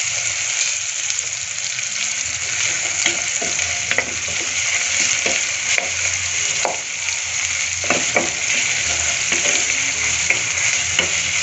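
Spice paste with a bay leaf frying in a pan at home, a steady close sizzle with occasional stirring scrapes and clicks running throughout.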